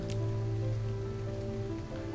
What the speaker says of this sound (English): the rain is starting